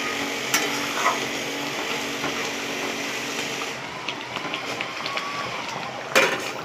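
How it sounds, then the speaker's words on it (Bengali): Chicken curry stirred in a pan after chicken masala is added, a steady broadband sizzle and scraping under the stirring with a few brief clinks, close and continuous throughout. "চিকেন মশলাটা দিয়ে একটু নাড়াচাড়া করে নেব।"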